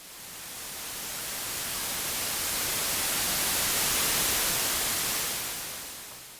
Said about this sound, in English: you can also make some slow noise swells by adding some long attack